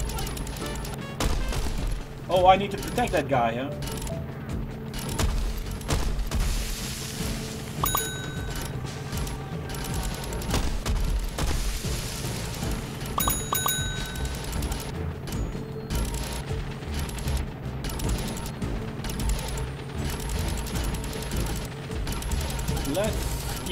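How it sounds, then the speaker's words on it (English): Corn cob cannon fire from Plants vs. Zombies: Garden Warfare 2 in a busy game battle, with steady rapid mechanical bursts and clatter running throughout, mixed with music and effects while a player talks over it. "Full auto currents. Corn cob cannon."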